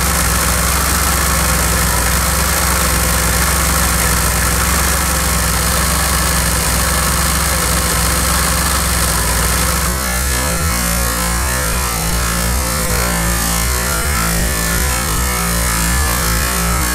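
A DeLorean DMC-12 engine idles steadily and loudly during an ignition timing adjustment, a constant low rumble that shifts slightly in tone partway through.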